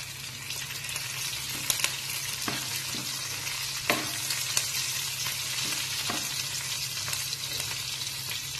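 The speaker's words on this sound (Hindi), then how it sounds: "अब इसमें हम डाल लेंगे मिर्ची हल्का भून कर इसमें आप डाल लेंगे कड़ी पत्ता" Green chillies and curry leaves fry in hot oil for a sponge gourd dish, a steady close sizzle broken by a few sharp stirring scrapes and pops, with no voices.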